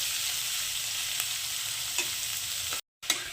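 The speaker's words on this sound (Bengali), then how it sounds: "পেঁয়াজ আর ক্যাপসিকামটাও এখন আমি একটু হালকা সাঁতলে নেবো খুব বেশি ভাজবো না হালকা সাঁতলাবো" Onion and capsicum sauté lightly in a pan while cooking restaurant-style chilli paneer, giving a steady soft sizzle with faint stirring clicks and a brief silent break near the end.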